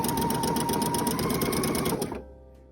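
A sewing machine zigzag stitches knit fabric for a bra, running in a fast, steady mechanical whir with rhythmic needle beats, then stopping abruptly with a short winding-down hum.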